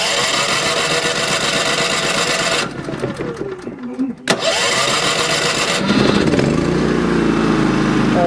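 A Champion 3400-watt dual fuel generator turns over on its electric start, cranks briefly in two pushes, then catches and settles into a steady loud engine drone, close by.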